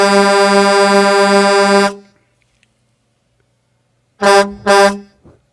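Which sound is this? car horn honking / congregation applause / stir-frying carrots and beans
car horn honking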